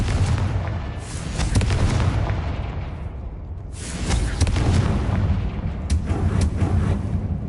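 The Confringo fire blast spell in the Hogwarts Legacy game on PS5 sets off loud, booming explosions. Several heavy blasts and rumbling bursts follow one another, close and without talk.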